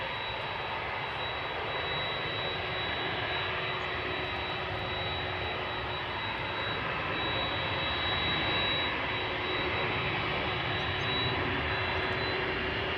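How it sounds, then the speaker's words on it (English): A United Airlines Boeing 767-400ER jet, 21 years old and bound for Washington from Amsterdam Schiphol, roars steadily and loudly throughout with a constant engine whine and no pause. "United Airlines flight 947. It is the 767-400"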